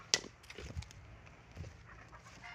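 Chickens and a rooster (barako) cluck at a rural home, with a sharp call at the start followed by scattered soft clucks, fairly quiet and nearby.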